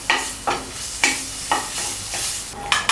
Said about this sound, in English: Now we move on to saute the aromatics. Saute the ginger until it turns fragrant.